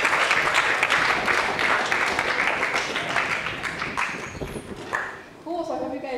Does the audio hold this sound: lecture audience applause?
yes